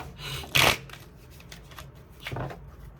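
Tarot cards shuffled by hand: one loud, close riffle burst near the start, then a softer second shuffle toward the end, with no talking.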